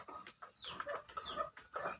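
A seven-month-old native chicken in Chavara, Kollam clucks close by in a rapid series of short, throaty calls, with no other sounds around it.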